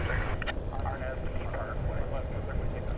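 Delta Airbus A220 arriving from Salt Lake City at Dallas Fort Worth airport, a steady low engine roar filling the background continuously while a voice talks over it.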